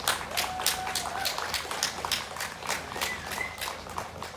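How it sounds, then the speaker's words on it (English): Scattered applause from a small audience at a Pride Month speech event, sparse claps spread across the whole stretch at moderate distance, with a faint whistle or tone rising in the background. "So give yourself a round of applause."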